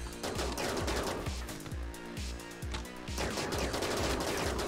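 Rapid bursts of automatic gunfire from a RimWorld colony firefight, loud and continuous, with repeated sharp reports overlapping in quick succession.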